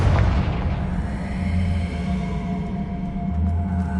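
The Confringo explosion spell cast in Hogwarts Legacy, a loud sustained booming rumble with a fiery crackle that holds steady for several seconds, dense and close.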